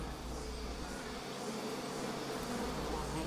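Bees buzzing steadily in a nature documentary, a continuous droning hum at moderate level, with no speech over it.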